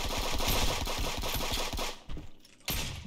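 Rapid gunfire bursts crack out in the Friends vs Friends shooter game, a fast run of loud repeated shots for two seconds, a brief gap, then another sharp burst, with no talking.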